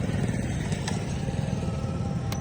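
A motorcycle engine running steadily nearby, a loud continuous low rumble with no talking.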